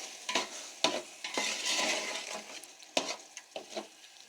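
A spoon stirs ground and dry spices into beef yakhni in a large pot, with sharp scrapes and knocks against the metal every second or so over a soft sizzle, close and fairly quiet.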